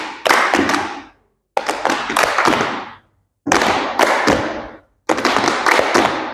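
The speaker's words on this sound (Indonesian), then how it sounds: "yuk kita mulai tepuk bituan" Children perform a 'tepuk bintang' clapping routine in a group guidance session, four bursts of sharp rhythmic clapping in unison, each about a second long and separated by brief silences.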